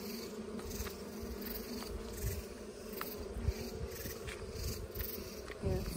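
Honey bees drone around an open top-bar hive in a steady, low buzzing swarm, close by and continuous, with faint rustling and handling knocks mixed in.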